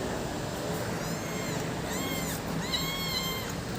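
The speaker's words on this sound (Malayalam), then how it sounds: "അവൾ മീനിൻ്റെ മണം അടിച്ചു കഴിഞ്ഞപ്പോൾ കരഞ്ഞുകൊണ്ട് വരികയാണ്" A small kitten drawn by the smell of fish gives several drawn-out, plaintive meows in a loose series, fairly close and clear over a steady background hiss.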